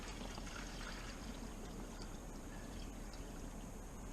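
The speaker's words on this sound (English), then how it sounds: "I can fill this right up with water" Water pours from a jug into a chicken waterer, a faint, steady trickling stream heard at low level with no voices.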